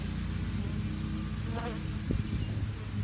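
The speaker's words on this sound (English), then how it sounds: "This is just too jammed full of bees in here." Honey bees buzz densely inside a crowded, overfull hive during an Ozark swarm inspection, a steady close droning hum throughout with a brief sharper buzz passing near.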